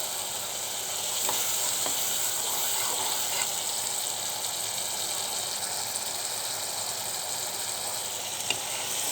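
Spice paste for a kechki fish curry fries and is stirred in a hot pan, giving a steady, close sizzle throughout with occasional soft scrapes of a spoon.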